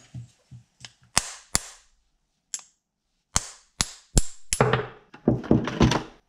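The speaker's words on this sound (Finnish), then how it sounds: "Otetaan 10 mm pultti. Tässä on 8 mm läpireikä, niin tällä pultilla pystyy hakkaamaan siihen kartion päähän." A 10 mm bolt is hammered against a steel cone with a 8 mm through-hole, giving sharp metallic strikes, first single and spaced, then quicker clustered blows toward the end, close and loud with silence between.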